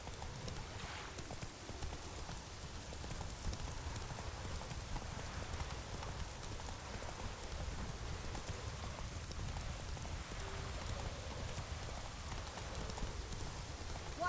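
Horse hooves gallop in The Witcher 3, a dense, steady drumming of rapid, even hoofbeats under a broad wash of noise that runs without a break, with no one talking.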